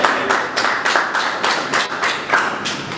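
Applause from an audience at an awards ceremony, steady clapping that swells in regular pulses, close and fairly loud, without speech.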